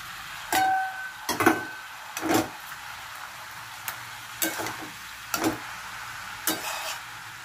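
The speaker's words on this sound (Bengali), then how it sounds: "এবার আমি ইলিশ মাছের মাথাটা দিয়ে দেবো।" A hilsa fish head goes into a hot pan of cooking pumpkin, bringing short sizzling bursts and spoon clatter at irregular intervals over a quiet, low background.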